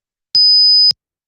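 A steady pure electronic test tone, an aliased sine at about 3000 Hz after sampling, sounds alone for roughly half a second with soft clicks at onset and cutoff.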